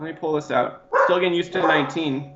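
A pet dog barking close by in a home, several sharp yips and barks in quick succession, overlapping with someone speaking.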